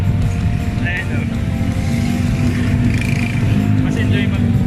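Motorized tricycle ride, with a steady rumbling engine close by throughout and people talking over it.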